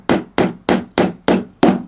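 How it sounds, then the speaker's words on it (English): Six sharp, evenly spaced hammer taps drive a banjo part down flat against a workbench in a craftsman's shop, loud and close with no talking. "So hammer it out here."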